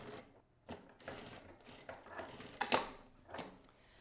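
A sewing machine runs a seam over the fabric margin about 2 millimetres from an earlier stitch line, in short quiet bursts of rapid mechanical clatter separated by pauses, close and faint, with no talking.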